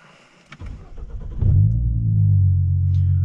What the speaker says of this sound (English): Here, they built in an aftermarket sports exhaust system, as we will hear now.